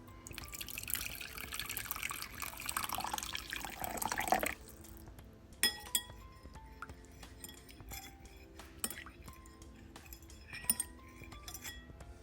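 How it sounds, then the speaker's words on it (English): Hot water poured from a bowl into a pot of coconut milk while cooking Jamaican-style coconut curry stuffed steamed fish: a steady, close pour for about four seconds, then scattered drips and light clinks of glass and utensils. "I added some hot water to it, and then I pour it in the pot"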